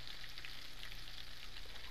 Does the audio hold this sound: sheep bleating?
no